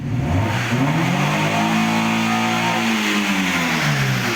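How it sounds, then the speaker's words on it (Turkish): A warmed-up Fiat engine revved hard at full throttle, a loud, steady roar with rising then falling pitch held close for several seconds, carbon deposits having built up inside it. "Şimdi dip gaz yapacağım."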